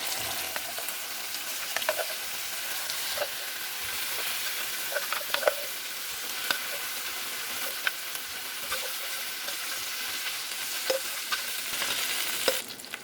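Gongura (sorrel leaf) paste with broken red chilies and curry leaves fries in hot oil, a loud, continuous sizzle with scattered pops and stirring clinks throughout.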